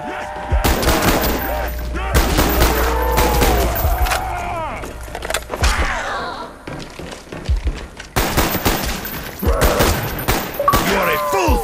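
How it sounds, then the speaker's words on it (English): Rapid gunfire in the Call of Duty zombies map Ascension, with bursts of loud, close shots and heavy thuds that break off briefly and then resume, dense and punchy. "I will aim carefully, pull the trigger at just the right time"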